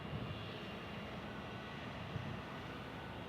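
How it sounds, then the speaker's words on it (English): A McDonnell Douglas DC-9 jet airliner at Kansas City International Airport gives off a steady, broad engine roar, distant and faint, unchanging across the moment. "But there's that DC-9, Benjamin."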